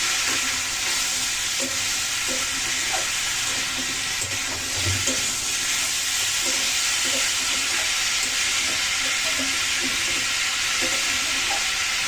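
Dal being stirred in a cooking pot after salt goes in: steady sizzling and bubbling with repeated soft scraping and clinking of the spoon, close and continuous throughout.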